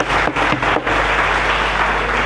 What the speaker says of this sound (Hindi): एक अच्छा ताली